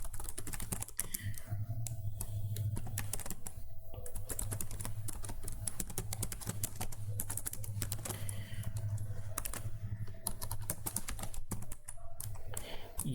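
Rapid, steady typing on a computer keyboard while writing code, with close, crisp key clicks continuing throughout with short pauses, and faint background hum.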